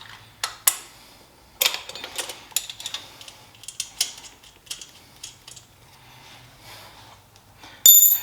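A wrench loosens the carburetor nut on a 2002 Honda Rebel 250 (CMX250C), giving a run of close, sharp metallic clicks and ratcheting bursts in irregular rhythm. A louder clank sounds at the end.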